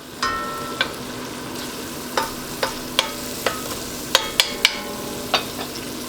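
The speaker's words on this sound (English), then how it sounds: "let's let these onions cook down for a little bit" Onions cooking down in a soup pot, a soft steady sizzle underneath with sharp clicks and taps of a utensil stirring against the pot at irregular intervals, close and moderately loud, no talking.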